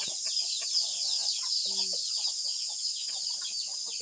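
Chickens cluck in short, scattered calls close by, over a constant high-pitched insect drone in a rural farmyard.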